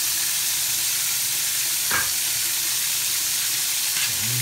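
Fish fillet fries over high heat for sarsiado, a dense, steady hiss of hot oil up close with a couple of faint knocks, no one talking.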